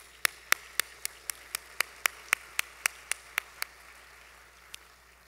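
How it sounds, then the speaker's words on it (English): A single pair of hands claps steadily at an economics presentation, about fourteen crisp evenly spaced claps, fairly faint and isolated, then one last stray clap after a pause, over quiet room hiss. "Round of applause for Dr. Dauffenbach."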